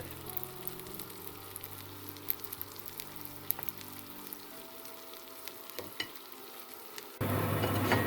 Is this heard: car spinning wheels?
no